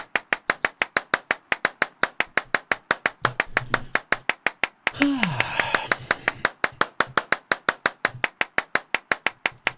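Steady rhythmic handclaps from the video game Clapism repeat at an even pace throughout, briefly interrupted midway by a louder burst of other game sound before the clapping carries on.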